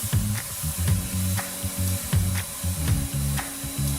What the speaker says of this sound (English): Next up, Alex's weekly spray tan